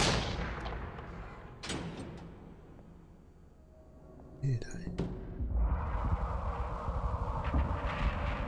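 Gunshots in the horror game Layers of Fear 2, a few sharp loud cracks with a burst of clatter midway and a dense rumbling roar building toward the end.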